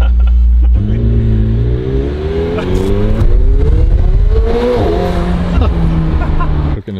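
A sports car's engine drones loudly, then revs up through rising gears with a downshift partway, heard close from inside the car over a steady road roar.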